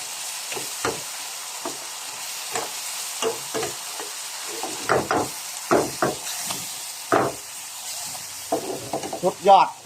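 Intermittent clattering scrapes and short sizzling bursts from stir-frying beef and shellfish in a wok, irregular and close, growing busier toward the end.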